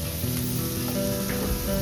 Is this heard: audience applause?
no